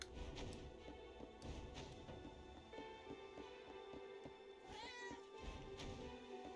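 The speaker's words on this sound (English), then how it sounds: "There is some pussy or a cat over here." Cat meows in the video game Astral Blade, a few short mewing calls set against steady game music and ambient sound effects.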